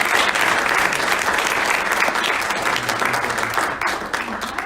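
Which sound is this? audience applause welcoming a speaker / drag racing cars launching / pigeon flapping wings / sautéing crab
audience applause welcoming a speaker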